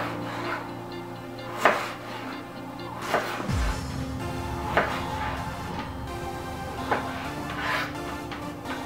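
A knife cuts raw potatoes into thin French fry sticks on a board in a home kitchen, with irregular sharp thunks of the blade meeting the board over steady background hum and quiet scraping.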